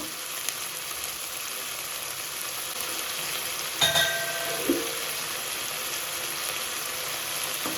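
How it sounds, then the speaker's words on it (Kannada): Chopped onion fries in hot oil for curd rice, giving a steady close sizzling hiss throughout, broken by a couple of brief clinks of a utensil against the pan. "ಈರುಳ್ಳಿನ ಎಣ್ಣೆಯಲ್ಲಿ ಚೆನ್ನಾಗಿ ಫ್ರೈ ಮಾಡ್ಕೊಬೇಕು"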